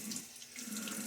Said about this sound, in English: put a little water in your bowl